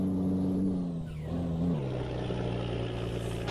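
Volvo FH16 truck engine in a truck-driving video game on a mountain road, a steady loud diesel drone with a pitch drop partway through as the gear or load changes, continuous with no talk.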